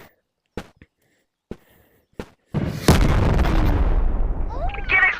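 Explosion in the video game Animal Company: a few sharp isolated clicks, then a sudden loud boom with a long rumbling, crackling decay, while faint voice-like sounds rise near the end.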